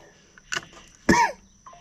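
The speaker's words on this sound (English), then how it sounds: "I just wish I knew why I can't quit coughing" Two short, harsh coughs about half a second apart, close and fairly loud, with quiet between them.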